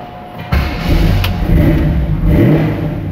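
A 1966 Chevy Nova wagon engine cranks and catches after a brief quiet moment, then runs loud and close with a rev and a slightly rough, cold idle, no speech over it.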